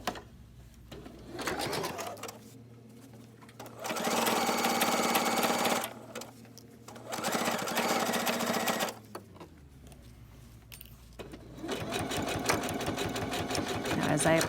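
A domestic sewing machine runs in steady bursts of a few seconds each, stitching binding onto a t-shirt quilt with a fast even whirring hum. Someone speaks quietly in the pauses, and pigeons coo faintly in the background.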